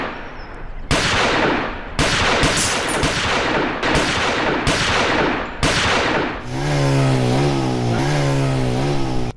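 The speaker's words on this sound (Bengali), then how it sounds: "যতক্ষণ গুলি চলছিল স্যার," Loud gunfire at close range comes as a series of sharp, rapid bursts separated by short gaps, and a buzzing, motor-like drone takes over toward the end.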